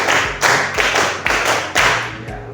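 Schoolchildren in a sixth-grade classroom clap in unison for a counting clap game, about five loud group claps in a steady beat, near and with no voices.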